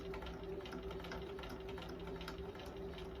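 A sewing machine runs steadily while stitching a line across quilt fabric, a continuous close mechanical whir with a fine rapid needle patter throughout and no talk.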